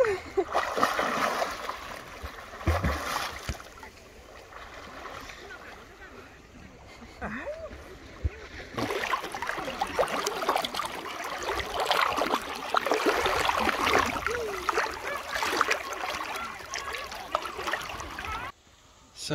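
People wade into the sea for a swim off the Polish north coast at Hel, with steady water splashing and churning under light wind, and a voice speaking at times.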